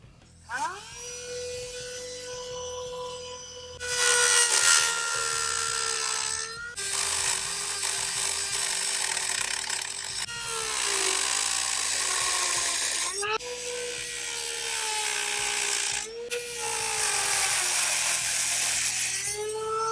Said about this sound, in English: scribe 2 lines of exactly where I want to cut, and then follow that with the Dremel